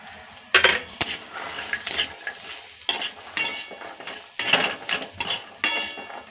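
A bowl of fresh green peas goes into a pan of sautéed masala for a matar kachori filling, followed by a series of loud, rhythmic scraping strokes of a metal spoon against the pan over a light sizzle.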